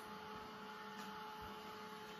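A drying tool blows on a chalk paste craft piece with a steady, faint, even whir from start to finish and no other sounds.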